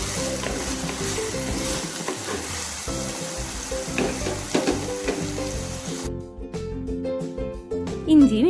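Garlic paste sautéing in a pan for a Trivandrum-style chicken thoran, a steady close sizzle with stirring scrapes, fading toward the end as a soft tonal sound enters.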